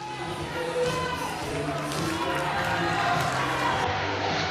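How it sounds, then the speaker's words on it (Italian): Applause and cheering fill the Palalido arena in Valdagno at the close of a match, a dense, loud, steady roar of clapping with scattered thumps throughout. "Tra gli applausi del Palalido"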